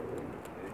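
A pair of Pakistani pigeons coos softly nearby, a few low, faint coos over quiet background.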